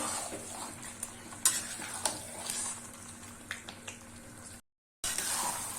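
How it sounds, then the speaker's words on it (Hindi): Mutton sizzles and is stirred in a pan over medium heat, with scraping strokes and spatula clinks over a continuous frying hiss. The sound is close and moderately loud, broken by a brief silent gap near the end. "हम इसको अच्छे से मीडियम आंच पर भूनते रहे।"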